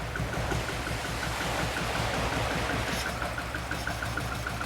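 A twin cam British sports car engine from a barn find idles steadily up close, a continuous low rumbling beat with a faint ticking pulse throughout and no voices.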